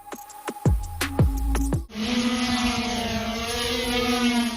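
A large package delivery drone flying near its landing site, heard first as a few sharp clicks and thumps, then a loud, steady buzzing whir like a lawnmower that holds unbroken to the end.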